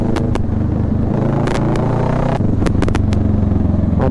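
Kawasaki Ninja superbike engine idling and revving steadily at close range, a loud continuous low rumble with mechanical clatter and a slight rise in intensity partway through.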